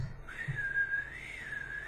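A person whistles a short, gliding melodic phrase that rises and dips, close and fairly quiet against faint background noise.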